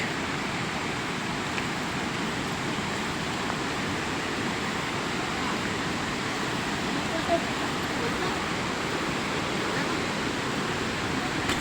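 Steady rushing roar of Querocep Falls, a waterfall in Infanta, Quezon, a broad unbroken wash of falling water that stays constant and close throughout.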